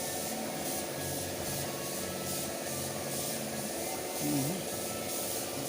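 A steady airy spray hiss runs continuously while a motorcycle is spray painted, with a mechanical hum underneath and a brief tonal wobble near the end.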